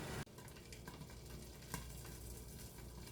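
Food steaming and sizzling in a covered pan after a splash of water, a steady close crackle and hiss with a sharp pop at the start and another midway, no talking.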